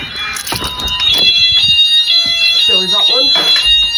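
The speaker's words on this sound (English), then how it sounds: "This is on the shed now, so... there we go. That sounder is sounding." Fire alarm sounder mounted on a shed, tested during a weekly fire alarm system check, giving a loud, piercing, steady electronic tone close by while someone talks over it.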